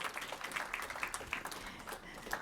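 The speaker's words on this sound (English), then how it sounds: "give our panelists another round of applause" Audience applause for conference panelists at an emerging manager conference, a steady wash of many hands clapping at moderate level throughout, with no voices on top.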